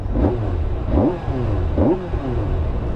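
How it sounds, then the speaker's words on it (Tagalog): The stock exhaust of a 2024 Kawasaki ZX6R motorcycle blipped three times, each rev rising quickly and falling back to idle, fairly quiet and close with no voices. "kung gusto nyo marinig yung exhaust niya ng stock, ayun o"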